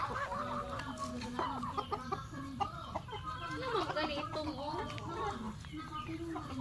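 Chickens cluck and squawk repeatedly in short, uneven bursts close by, with a person talking in the background.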